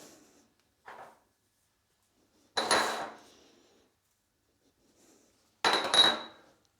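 Bratwurst meat being mixed by hand with mace, caraway seeds and pepper for Thüringer sausage, heard as two short bursts of squelching, clattering handling noise separated by quiet pauses.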